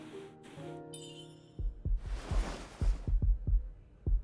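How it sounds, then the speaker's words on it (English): Heartbeats heard through headphones in the video game Love and Deepspace: soft low thumps in a steady repeating rhythm, following a brief chiming musical tone at the start. "Now we're hearing our heartbeats."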